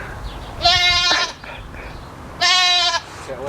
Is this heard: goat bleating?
yes